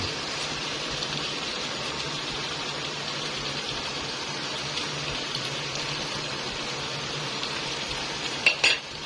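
Onions frying in a pan for pork liver sauté, a steady close sizzle with occasional soft stirring scrapes and a couple of sharp utensil clinks near the end, no talking.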